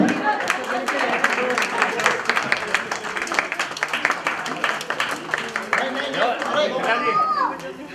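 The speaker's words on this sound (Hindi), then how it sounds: "Come on everyone, please, your big hand for them." A retirement party audience claps steadily, a close, dense patter of many hands under loud, excited talking and chatter, with the applause thinning near the end.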